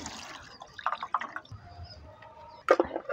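Water splashes and drips as a whole snakehead fish is rinsed after being scrubbed with salt for a Tamil village-style fry, with short bursts of splashing separated by quieter trickling.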